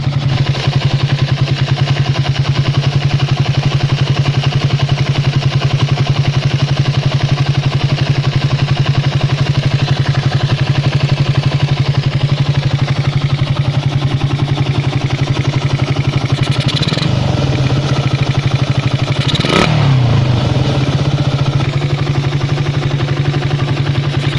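A small pit bike engine, warmed up and fitted with a 30mm PWK carburettor, idles loudly and steadily throughout, with a couple of brief clunks near the end.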